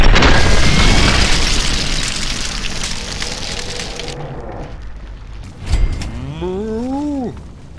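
Gunfire and a bellowing moo from a two-headed Brahmin cow shot with a Hellfire weapon in Fallout 3: a loud sustained blast and crackle, a sharp impact, then a rising-and-falling low bovine call.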